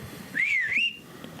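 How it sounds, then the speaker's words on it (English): A single clear whistled phrase, bright and close, rising and dipping twice in a short melodic swoop. "I look up to the sky and I whistle."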